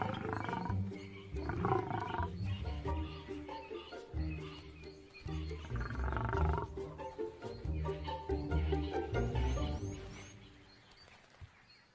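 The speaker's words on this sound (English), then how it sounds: "The lioness is careful of the sudden attention and tries to keep the male at a distance." Lions near a kill on a South African safari give deep, rumbling roars and grunts in repeated bursts, fairly close and moderately loud, with faint birds and frogs in the background.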